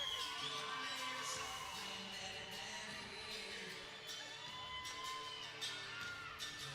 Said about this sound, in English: They are up and they are cheering their man